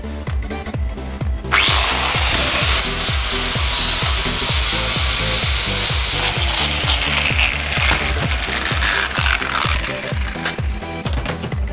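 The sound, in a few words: cleaning up welds on scrap metal sculpture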